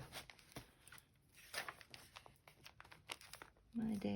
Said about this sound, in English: Get these note cards out of the way.